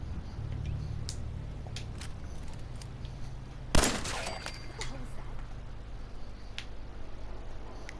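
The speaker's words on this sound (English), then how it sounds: "Certainly wasn't someone with a gun shooting ghouls in your near vicinity" A single sharp gunshot cracks out mid-clip while fighting ghouls in the Fallout 4 video game, standing alone above a steady low ambient hum with no other shots around it.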